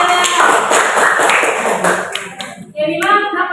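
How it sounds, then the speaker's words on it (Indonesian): A class of schoolchildren clapping in quick, uneven rhythm, with some chatter mixed in and a short break before clapping resumes. "Luar biasa, tepuk dulu sudah ya."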